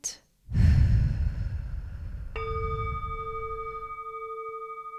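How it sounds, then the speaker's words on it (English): A deep, slow breath out during a guided calming exercise, an airy exhale heard close and fairly loud, followed by a soft, steady tonal hum beneath it. "let's take a deep breath in."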